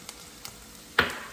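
Thick-cut bacon strips dropped into a hot pan, giving a sudden close sizzle that swells and keeps crackling after a few faint clinks, with no talk.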